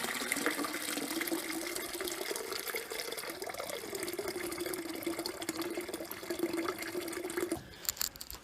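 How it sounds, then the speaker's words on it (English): Water running steadily from a tap into a wine kit fermenter, topping up a Winexpert Cabernet Sauvignon batch to about 20 litres, a continuous close rushing pour that stops near the end. "now I'm going to top my fermenter up to about, it'll go to about 20 litres"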